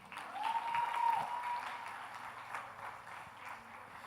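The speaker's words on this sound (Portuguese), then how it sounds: "uma salva de palmas para a Gabi" A church audience claps steadily, a dense patter of applause that swells and then tapers off gradually, heard in a roomy hall.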